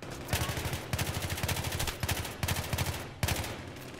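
Rapid bursts of gunfire from a two-round burst weapon in the video game Battlefield 3, loud and close, in clusters of sharp shots repeating over a few seconds.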